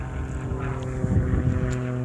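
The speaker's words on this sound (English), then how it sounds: "There you go, there's an airplane." An airplane passes overhead, a low droning engine rumble with a steady hum and broad wind-like roar that swells slightly toward the middle, heard from a distance with no talking.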